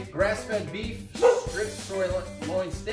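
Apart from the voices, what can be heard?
dogs barking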